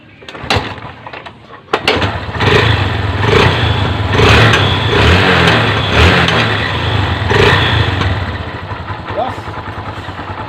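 A Honda CB 125 motorcycle engine starts and runs close by with a loud, uneven idle and a metallic clattering rattle from the clutch housing and clutch damper pulsing through it.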